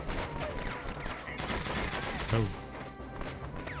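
Incoming gunfire striking the player in Conflict: Desert Storm, a steady clatter of distant shots and impacts under game noise with one louder hit midway, and a brief spoken exclamation.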